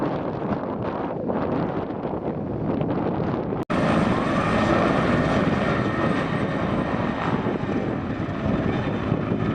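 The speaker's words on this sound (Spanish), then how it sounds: "hemos movilizado un helicóptero de Enguera ahí" A firefighting helicopter drones steadily overhead at a wildfire near the Turia river, with heavy wind buffeting the microphone, and a brief cut midway before the rotor noise continues loud and constant.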